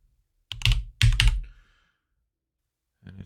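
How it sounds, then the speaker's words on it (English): Two short bursts of rapid key clicks on a computer keyboard, followed by silence and one more brief click burst at the end, close and clear with no speech. "now I want to go to the start menu and type DHCP"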